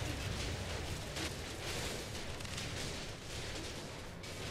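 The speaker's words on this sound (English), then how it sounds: "I guess the explosion of the radar was powerful enough to destroy everything else." A radar installation blows up in The Saboteur video game, a dense, roaring explosion blast that rumbles continuously and loudly for several seconds with no pause.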